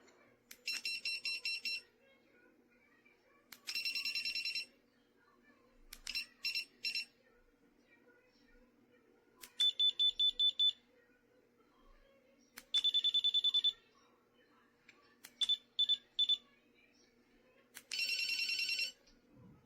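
A series of electronic beeping tones from an ABBIDOT dog training collar in short bursts, some rapid trills and some steady, repeating about every few seconds in an otherwise quiet room.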